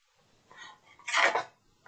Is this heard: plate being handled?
yes